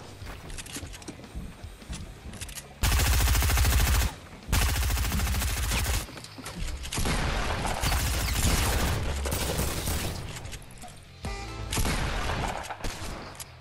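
Automatic gunfire in a video game squad fight: loud sustained bursts and rapid volleys of shots, several seconds long with short breaks, dense and close.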